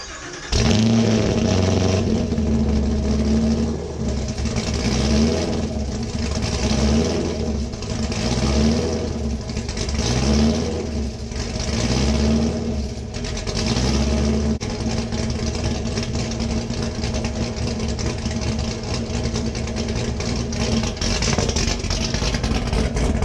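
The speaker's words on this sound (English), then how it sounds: "we're going to get in the car, start it up, and make sure it's nice and warmed up" A car engine cranks and starts, then idles and is revved repeatedly while warming up, loud and close with rhythmic swells of throttle over about twenty seconds, no voices.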